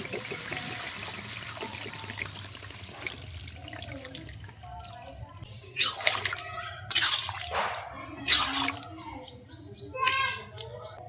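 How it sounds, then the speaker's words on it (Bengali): Water is poured into a pot of jackfruit and potato curry, a soft trickling and splashing with a few brief louder gurgles, heard close over a low steady kitchen hum. "এবারে আমি দিয়ে দেবো জল।"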